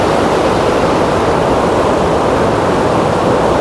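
The Aklan River rushes in a dense, continuous roar of fast-moving water, loud and close, with no voices over it.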